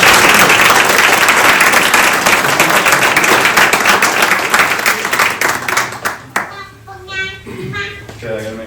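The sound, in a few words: round of applause at key ceremony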